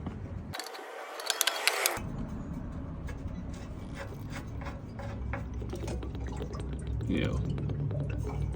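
Black, foul-smelling water drains from an RV water heater after the anode rod is pulled, a continuous gushing, splashing pour with metallic clicks, close and loud, a voice briefly audible over it.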